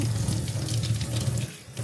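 Water runs steadily from a shower while a baby is bathed, a close, continuous splashing hiss with no voices.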